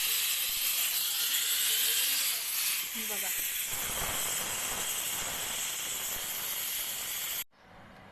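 A pressure cooker of masala rice vents steam in a loud, steady hiss lasting several seconds, ending abruptly as the release stops, indoors in a kitchen.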